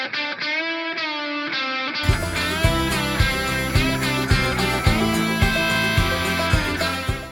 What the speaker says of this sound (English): I am using this delay rock lead preset.